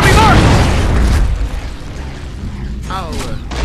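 A frag grenade blast in a Gears of War 3 multiplayer match, a loud booming burst at the start that rumbles and fades, with voices shouting over it.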